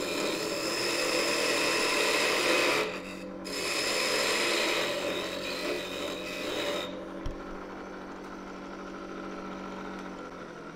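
A wood lathe turning a mini birdhouse ornament while a parting tool cuts the wood, making a loud, steady scraping rasp over the motor's hum. The cut stops twice, and near the end only the lathe's quieter idling whir remains.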